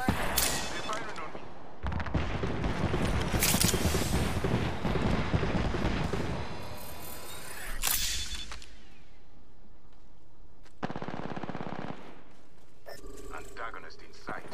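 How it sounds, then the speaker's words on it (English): Gunfire in Apex Legends: loud bursts of automatic weapon fire and heavy impacts in several clusters separated by brief lulls, with game voice lines spoken over the shooting. "They're firing on me."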